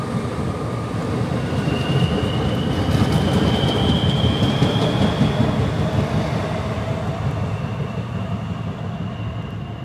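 A DART commuter train runs along Dublin Bay toward Blackrock, a steady loud rumble of wheels and carriage noise with faint squeals and rhythmic clatter, heard continuously from on board.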